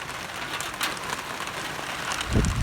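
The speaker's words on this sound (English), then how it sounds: "because it's pouring down rain" Heavy rain pours down outdoors as a dense, constant wash of noise, with a brief low thump near the end.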